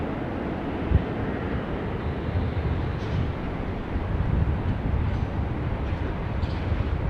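A FedEx Boeing 777 freighter taking off from runway 16 right at Sydney Airport, heard as a steady, broad jet roar that stays level throughout, heard from a distance and mixed with wind buffeting on the microphone. No voices.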